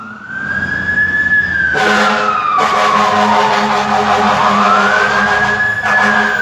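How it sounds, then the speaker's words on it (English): A wailing siren sweeps slowly up and down over an idling vehicle, loud and close, with brief bursts of louder noise and no talk. "the siren from the police"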